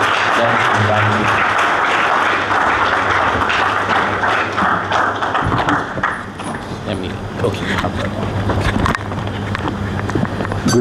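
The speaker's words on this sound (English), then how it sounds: "With a round of applause, let's invite you." Steady applause from a crowd at a student conference fills the whole stretch, dense and continuous, with a low rumble underneath and no clear break.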